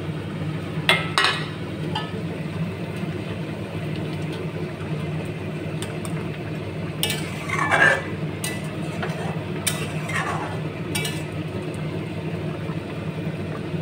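Pabda fish slid into a hot pan with tomatoes for a Bengali-style curry, giving short sizzling bursts and light clinks over a steady low kitchen hum.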